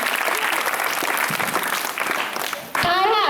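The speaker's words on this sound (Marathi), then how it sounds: "या सुंदर गाण्यासाठी टाळ्या का होत नाही" An audience applauds after a song at a Lokmanya Tilak death anniversary and Annabhau Sathe birth anniversary programme, with a burst of clapping that fades, then swells again at the end.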